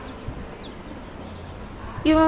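A small, one-month-old colour chick gives a single short, loud cluck near the end, close by, after a stretch of quiet room background.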